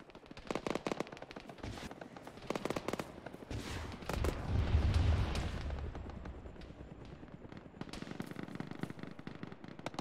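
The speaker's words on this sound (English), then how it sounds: "Rocket hit." A rocket strike and explosion in Arma amid ongoing gunfire: sharp shots crackle, then a heavy rumbling blast swells and fades, with more shots afterward.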